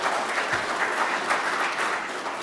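Steady, dense applause from a large audience at an engineering awards ceremony fills the room without a break.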